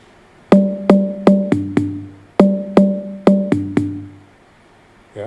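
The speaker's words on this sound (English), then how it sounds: "Here I just created a little percussion sound," A synthesized percussion sound in a music production session plays a short pitched pattern twice, eight sharp plucky hits each time with a falling tone in the second half, clean and close with no voices.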